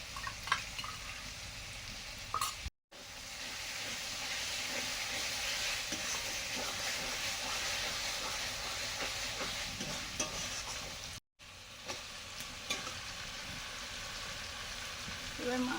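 A paste of fried and ground cumin, coriander, dried chilli and whole garam masala sizzles in a pan while being stirred, a steady frying hiss with a few scraping stirs and two brief cuts.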